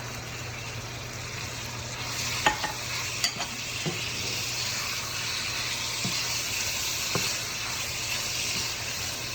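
Minced meat (keema) with water sizzles steadily in a frying pan while a utensil scrapes and stirs, with a few soft clicks and knocks scattered through.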